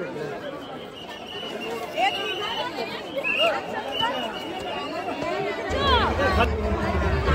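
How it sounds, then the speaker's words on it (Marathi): Dense crowd chatter fills the packed Wagah border parade stadium, a continuous babble of many voices close and far with occasional louder calls rising above it. "फुल गर्दी झाली आहे."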